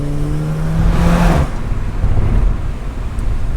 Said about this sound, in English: These TFSIs, man, they do sound a bit angry